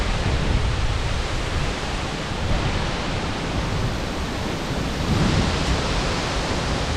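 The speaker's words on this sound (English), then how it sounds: "That's a good gust." A strong wind gust during Hurricane Ian roars continuously and loudly as a dense, broadband rush that swells slightly near the end, with no voices.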